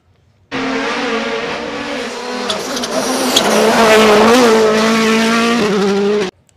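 Toy race car sound effects play loud and continuous for about six seconds, a steady revving engine whine with squealing tires that swells toward the end before cutting off abruptly.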